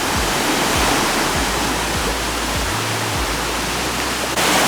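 A river rushes steadily on San Miguel island, a dense, loud broadband roar of flowing water with low churning undertones and no voices.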